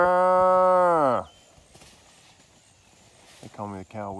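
A single long, loud cow moo on an open rural road near a mountain ridge, followed by quiet and then a person's low humming imitation of the moo.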